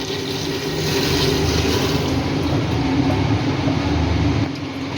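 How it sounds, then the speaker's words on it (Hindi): Water poured steadily into a cooking pot for Peshawari namkeen gosht, about five glasses' worth, making a continuous loud rushing splash that runs for several seconds and then stops abruptly near the end. "इसमें एक पानी वो डाल देंगे, कम से कम 5 गिलास देंगे।"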